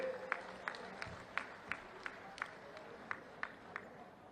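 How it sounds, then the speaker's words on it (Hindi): A political rally crowd welcomes the chief minister with faint, distant rhythmic clapping, about three sharp unison claps per second repeating steadily over a low background murmur. "एक बार हमारे माननीय मुख्यमंत्री विष्णुदेव साय जी का दोनों हाथ उठा के तालियों के साथ स्वागत करें।"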